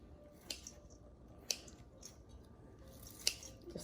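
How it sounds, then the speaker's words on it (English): Kitchen scissors snip through cooked noodles in a home kitchen for egg rolls, giving three or four faint, separate crisp cuts with quiet pauses between them. "I use the kitchen scissors to cut the noodle up"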